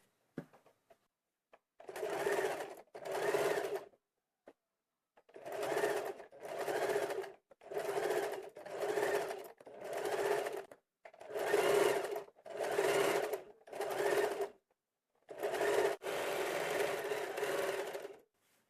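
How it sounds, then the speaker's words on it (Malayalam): A sewing machine stitches canvas along the neck edge of a kurti in about ten close, loud bursts of fast buzzing stitching, each a second or two long, broken by brief silent stops, with faint handling clicks at the start. "ഇതിൻ്റെ വക്കിലേക്കൂടെ ക്യാൻവാസിൻ്റെ ഈ വക്കിലേക്കൂടെ ഇങ്ങനെ നമ്മൾ ഫുള്ള് സ്റ്റിച്ചിട്ട് എടുക്കാം"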